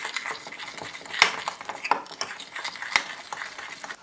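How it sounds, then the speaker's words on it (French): Spoon stirring flour, yeast and warm almond milk in a bowl for a brioche dough, giving faint scraping and a few sharper clinks against the bowl, close and quiet with no talk. "je remue avec une cuillère jusqu'à liaison"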